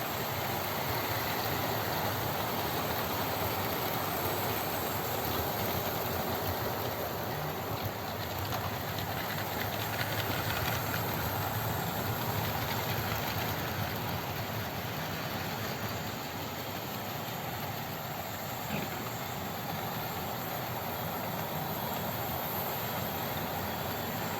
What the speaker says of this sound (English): There's 10 trains running at the moment